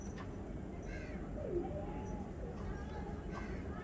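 Ghamgar pigeon cooing softly close by, a low rolling coo rising briefly over steady background noise, with faint bird calls around it.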